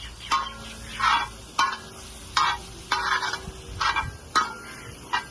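Peas and capsicum stirred on a hot tawa for green pav bhaji, a spatula scraping in about six firm, evenly spaced strokes over a steady close sizzle.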